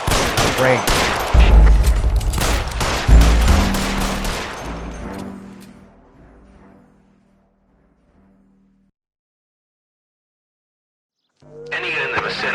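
Shootout gunfire in L.A. Noire, a rapid dense volley of shots over a few seconds that fades into near silence before a new noise begins; a voice is heard during the firing.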